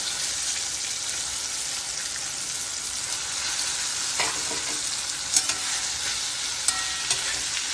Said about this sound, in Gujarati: હવે એની અંદર હું આ 3 ડુંગળી જે કટ કરેલી છે એ અંદર નાખી દઉં છું.